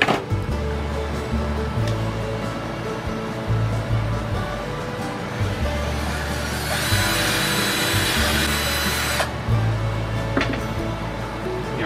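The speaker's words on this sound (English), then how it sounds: "So I'm gonna drill that out now and place this in this side." A power drill boring a hole for an eye bolt in a shuttle bus conversion, with steady low motor whirring, a harsher grinding burst in the middle, and intermittent stops between runs, close up.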